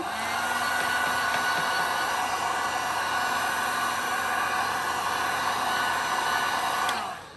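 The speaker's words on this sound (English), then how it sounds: "All right, so let me hit it with a heat gun." A heat gun blows a steady, loud, even whoosh of hot air over resin for the whole stretch, then switches off and fades at the very end.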